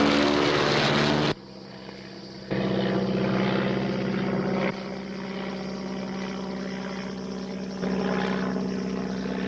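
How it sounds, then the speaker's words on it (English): A propeller plane drones steadily overhead in an action-adventure scene, a loud, constant engine hum that dips briefly and then swells again as the aircraft arrives. "Cochran's plane is here."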